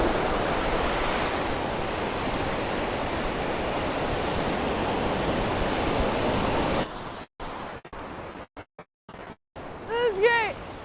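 Ocean surf breaks steadily onto a Los Angeles beach as a loud continuous wash for several seconds, then cuts out into wind buffeting and an excited shout.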